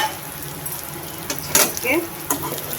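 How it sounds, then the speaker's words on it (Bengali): Pieces of pointed gourd (potol) fry in a pan of oil with a soft, steady sizzle, broken by a few sharp clicks and clatters from stirring. "পটলগুলো সুন্দর লাল লাল করে ভেজে নিচ্ছি।"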